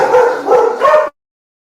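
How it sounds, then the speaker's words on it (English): A dog barks several times in quick succession indoors at a house, loud and close, the barks running together before cutting off abruptly into silence. "Dogs get a little protective over the house here."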